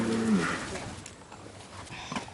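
Cattle low on a farm on a damp, miserable day, a deep moo near the start followed by quieter shuffling and faint farmyard ambience.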